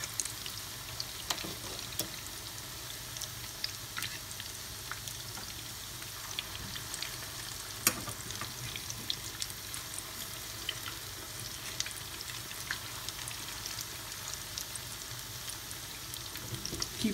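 Courgette balls (kolokythokeftedes) sizzle steadily in a frying pan, a continuous close crackle with scattered pops and no talking.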